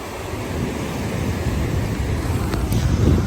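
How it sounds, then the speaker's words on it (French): Ocean waves surge against a rocky lava coast at Los Charcones, Lanzarote, a steady broadband wash of surf mixed with wind buffeting the microphone, building slightly louder toward the end with no one talking. "quand les vagues elles montent, c'est dingue"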